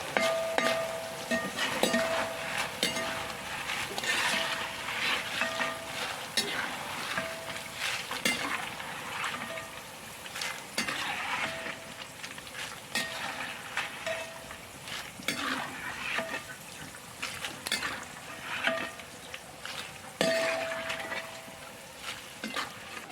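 Jackfruit pieces frying in hot oil, with a steady crackling sizzle and intermittent clinks and scrapes as a utensil stirs and scoops them from the pan, close and fairly loud with no talk.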